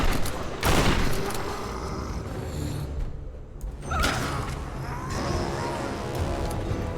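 Gunfire aimed at the player in the Tomb Raider game, loud bursts over a continuous roar of combat noise, with sharp shots breaking through at the start and again midway.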